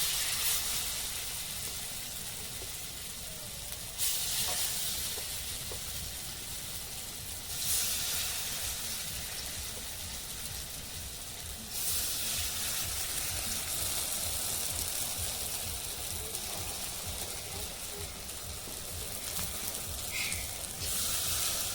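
Cabbage fritters (bora) fry in a wok of hot oil in a village kitchen, giving a continuous close sizzle and hiss that swells in places and runs on with no talking.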